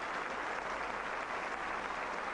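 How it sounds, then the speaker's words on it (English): Applause from Burnley supporters at a football match against Colchester United, a steady broadband wash of clapping filling the whole short stretch at moderate level, with no distinct voices over it. "a big round of applause from the Burnley fans as well"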